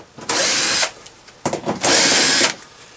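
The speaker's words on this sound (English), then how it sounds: "It's got a couple of Phillips screws right up in here. Going to take those off." A power drill backs Phillips screws out of the wheel well liner of a 2011 Nissan Xterra, two close, loud whirring bursts of about half a second each, separated by a short pause with light clicks.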